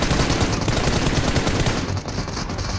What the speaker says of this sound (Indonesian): Biar gue nembak ya.